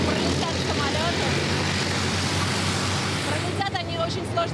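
A loud, broad roar of military aircraft passing low over Red Square during a Moscow Victory Day parade rehearsal fills the scene steadily, with a voice speaking beneath the noise.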